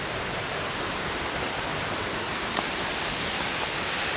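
Small waterfall in a forest park, a steady close rush of broadband falling water that holds even and unbroken throughout, with no voices over it.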